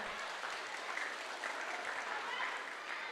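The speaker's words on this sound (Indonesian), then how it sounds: "tepuk tangan untuk kita semua" Audience applause at a school orientation event in Padang, a dense, even clapping wash from a sizable crowd, fairly distant and quiet, with no voices on top.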